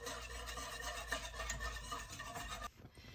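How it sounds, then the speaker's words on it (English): A whisk scraping steadily around a pot of vanilla pie filling, a close, rhythmic rasping swish that runs for several seconds and then drops away abruptly, with no talk. "whisking it until I get it to the temperature that I want"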